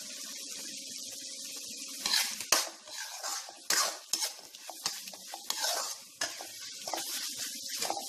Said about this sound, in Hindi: एक मिनट तक तो और हम इसे फ्राई करेंगे